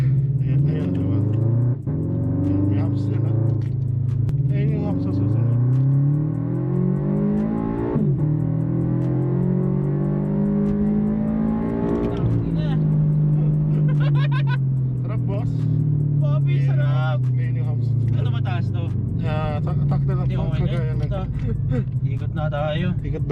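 A 2017 Toyota GT 86 driving, its engine droning steadily with rising and falling pitch through gear changes, heard from inside the car under ongoing conversation.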